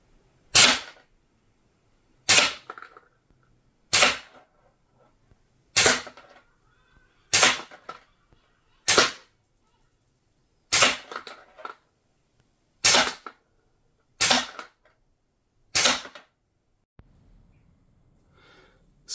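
Double Bell AM.45 airsoft pistol fired at a pizza box in a kitchen, ten sharp, snappy shots spaced a second or two apart, each a crisp crack with a quick impact tail, near and clear over quiet.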